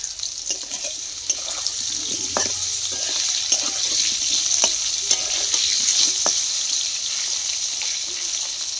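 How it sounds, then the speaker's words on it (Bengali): Potatoes fry in hot oil on a gas stove, giving a steady close sizzle with scattered stirring clicks and scrapes throughout, and no talking. "আমার আলুটা ভাজা হয়ে গেছে,"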